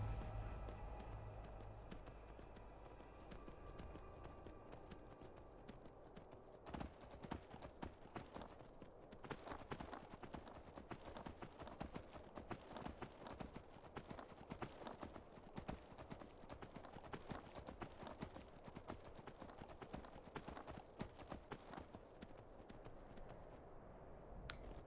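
In the video game Skyrim, a horse's hooves clip-clop at a fast trotting or galloping pace, starting after a quieter opening and continuing as a dense, near, rhythmic patter for many seconds.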